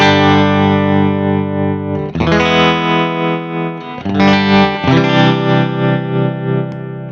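Electric guitar played through a Valeton Coral Wave Shaker tremolo pedal, sustained distorted chords pulsing with a steady rhythmic volume wobble, changing chord several times, loud and alone with no talking.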